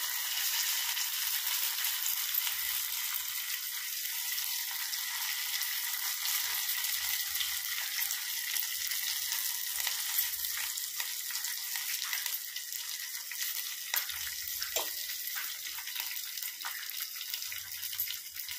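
Fresh curry leaves hiss in hot oil for a mango dal tempering, giving a steady close sizzle with faint crackles and no speech.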